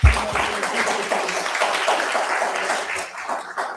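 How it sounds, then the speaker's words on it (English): An audience at a student network event in Groningen gives a brief round of applause, fairly close and steady, opening with a low thump before the clapping fades slightly toward the end. "Give it a little round of applause."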